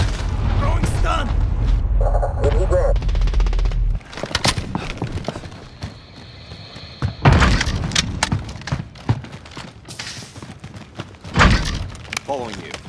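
In Call of Duty Modern Warfare multiplayer, a thrown stun grenade lands among heavy thuds and booms, with sharp bangs bursting through gunfire-like clatter while voices talk over the action.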